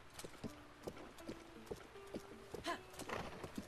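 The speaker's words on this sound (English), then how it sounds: "I've got a horse!" Faint video game horse hoofbeats clip-clop at a steady walking pace in The Legend of Zelda: Breath of the Wild, quiet and somewhat distant, with a few soft tonal blips over them.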